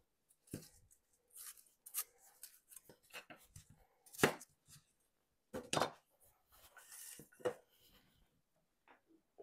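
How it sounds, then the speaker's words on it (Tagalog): Onions and pear sliced with a knife for kimjang kimchi, an irregular run of crisp close cutting strokes and board knocks separated by quiet gaps, with no talk. "i-slice natin yung onions. Pati yung pear."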